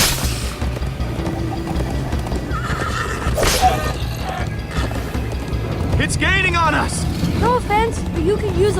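A horse in the Minecraft Story Mode video game whinnies in several rising, wavering calls over a dense, loud game mix of hooves, rumble and effects, with voices talking throughout.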